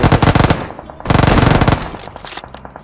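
Rapid automatic gunfire from PUBG Mobile, dense rattling bursts that stop briefly and then resume loud and close, trailing off into scattered shots.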